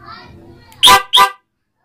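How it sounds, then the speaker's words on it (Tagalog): A motorcycle horn sounds with a newly fitted alarm: two short, loud beeps in quick succession, close by, following faint background chatter. "So yan guys, sumasabay na yung busina."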